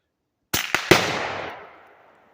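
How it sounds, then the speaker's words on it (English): A small explosion, heard as three sharp cracks in quick succession, the last the loudest, followed by a short fading rumble, outdoors and fairly close, with no talking. "It did explode though."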